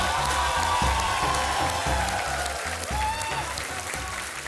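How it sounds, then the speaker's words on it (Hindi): A television studio audience applauds to welcome guests Ajay Devgn and Sonakshi Sinha, loud sustained clapping with a rhythmic music beat pulsing underneath. "तालियों के साथ अजय देवगन,"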